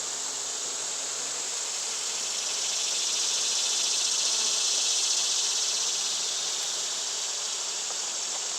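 Honey bees buzz outside their hive, a continuous high drone from many insects that swells slightly in the middle and holds steady throughout, with no voices.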